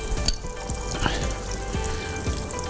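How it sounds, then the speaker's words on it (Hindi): Coloured nimko frying in hot oil, a steady dense sizzle with a few soft knocks and clinks of a utensil against the pan, close by. "ये हमने डाल दिया फ्राई होने के लिए"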